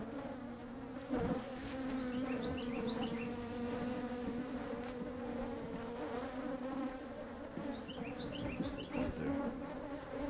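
A honeybee colony buzzes steadily during a spring hive inspection of newly drawn comb, a dense close hum with individual bees passing near.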